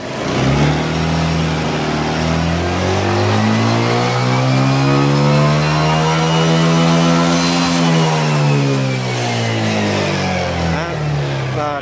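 A Honda Click 125 scooter, freshly rebuilt to a 150cc engine with a remapped ECU, revs hard. The loud, close engine whine climbs steadily to a peak and then drops back down.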